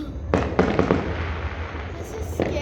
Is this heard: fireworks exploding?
yes